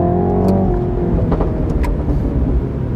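MINI John Cooper Works, 231 hp and 320 Nm, accelerating on a road. The engine holds a loud, steady drone close by, with faint rising harmonics. No voices are heard.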